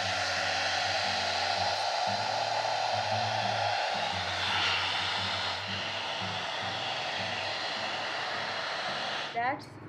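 A hair voluminizer dryer runs on its first heat setting, a loud, steady, close whooshing blow that holds for nearly ten seconds before cutting off with a brief rustle.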